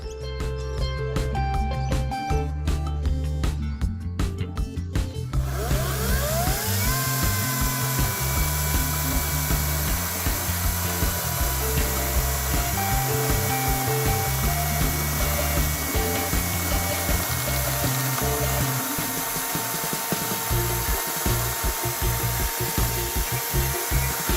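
A Ryobi 36V cordless chainsaw whines loudly and steadily as it cuts through a log, the motor pitch shifting under load and easing near the end.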